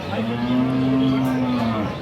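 A Sahiwal cow at a cattle market in Dinajpur, Bangladesh, lets out one long, steady moo, close and loud, lasting about two seconds.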